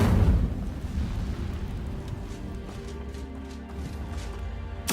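An Incendio fire spell cast in the video game Hogwarts Legacy: a loud, eruptive fiery burst at the start that fades into a crackling, rumbling tail, with a short sharp hit at the end.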